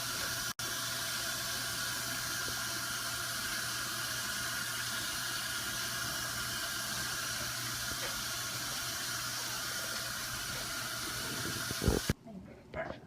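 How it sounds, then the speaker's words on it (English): Store-packaged meat rinsed under a running kitchen tap: a steady, close rush of water pouring into a sink for the full stretch, cutting off abruptly near the end with a few small clunks. "I'm going to be washing these off so there's no bacteria or anything on there."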